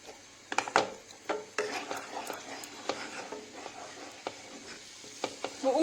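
Butter and flour being roasted in a pan for béchamel sauce, with quiet scraping and stirring strokes of a utensil against the pan and a faint sizzle underneath, fairly soft and close.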